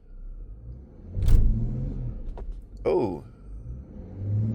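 A ZF automatic transmission car in drive with its engine bogged down, a low rumble and strain rising at about one second and again near three seconds, with a short spoken exclamation over it.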